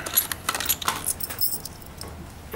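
Three padlock keys jangle and clink together on their ring in a continuous metallic rattle, close and fairly loud, with no talking.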